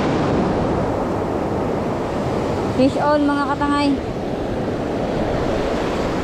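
Open-sea waves wash steadily around a small fishing boat, with wind buffeting the microphone throughout. Midway, a short excited shout cuts across the constant surf.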